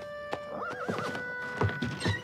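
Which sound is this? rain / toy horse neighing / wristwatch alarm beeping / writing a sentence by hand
toy horse neighing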